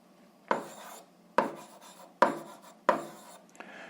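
Handwriting during an 8th-grade algebra lesson, four distinct scratchy strokes of a pen or chalk in an even rhythm, close and clear with no talk.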